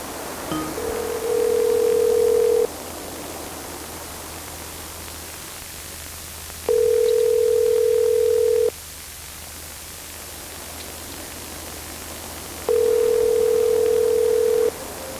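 A telephone call goes unanswered, its ringback tone sounding in three long, even bursts separated by pauses over a steady background hiss.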